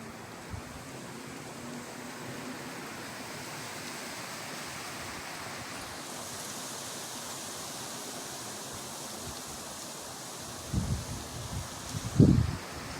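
Steady outdoor wind on a sunny day, a constant broadband rush with a couple of brief louder gusts or buffets near the end.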